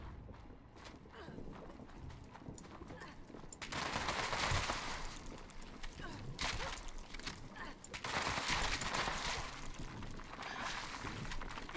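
Turrets firing during a defend event in the video game Fallout 76, rapid bursts of gunfire that swell louder partway through and continue in dense volleys with background game noise.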